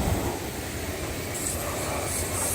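A CSX auto rack freight train rolls past steadily, its wheels and railcars giving a continuous rumbling roar with faint metallic squeals rising near the end, heard alone without talk.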